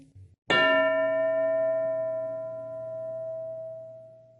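A single bright school bell strike rings out in a classroom after a brief pause, its clear metallic tone sustaining and slowly fading over several seconds.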